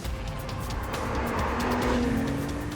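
A Honda NSX with a dual hybrid powertrain drives past with a steady, loud engine drone and rising tone, tyres and wind noise filling the road sound.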